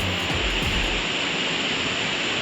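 Steady, dense rush of falling water, a constant roar with a few low thumps and rustles at the start.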